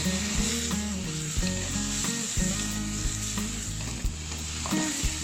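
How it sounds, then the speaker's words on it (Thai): Chopped chili and garlic stir-fried in a hot pan for a Thai basil pork and shrimp dish, with a steady loud sizzle broken by repeated scraping and clanking of a spatula against the pan. "ผมก็จะใส่ พริกกับกระเทียมสับนะครับ ใส่ลงไป แล้วก็ผัดคลุกเคล้าทั้งหมดให้เข้ากันเลยนะครับ"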